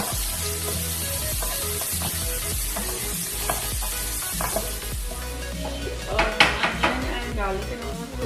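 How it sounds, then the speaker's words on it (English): Onion cooks in a pan for pasta, a constant sizzle with metal utensils clinking and scraping against the pan, the clatter growing busier and louder toward the end. "so then I'm adding onion as well. And then just let it cook."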